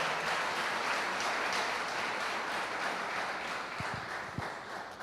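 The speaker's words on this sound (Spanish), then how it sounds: "Vamos a dar un aplauso al Señor." Church congregation applauding during a Spanish-language sermon, a steady wash of many hands clapping at moderate distance, fairly faint and sustained, with a few sharper claps near the end.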